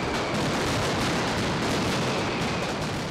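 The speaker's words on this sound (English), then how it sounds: "Hundreds of pounds of maroons are set off within a few minutes." Maroons, loud firework bangers, explode at the Valencia festival for the Feast of St. Joseph in a packed plaza, a deafening unbroken barrage of rapid overlapping blasts with no pause.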